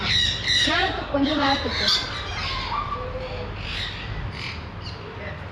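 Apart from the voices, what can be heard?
parrot squawking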